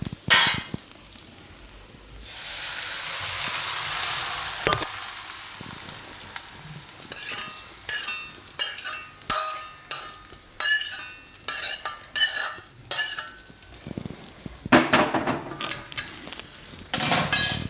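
A metal spoon stirs pickle ingredients together in a pot on a turned-off gas stove while making Gujarati onion pickle. A soft sizzle gives way to repeated scraping and clanking against the pot, loud and close, with no talking.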